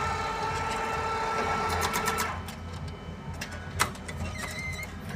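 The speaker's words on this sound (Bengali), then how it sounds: "তো আপনারা প্রিন্ট দিয়ে দিবেন, এখানে টাকা দিয়ে দিবে।" ATM printing a receipt and dispensing cash: a rapid mechanical whirring and chattering feed, then a few short clicks and a sharp clunk, moderately close with a low hum underneath.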